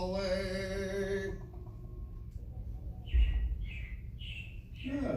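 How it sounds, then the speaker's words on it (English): Robins chirp in short repeated bursts, a few distinct calls spaced across the second half, moderately close, after a stretch of singing and with a low hum underneath. "it looks like the Robins are getting ready to celebrate Valentine's Day today"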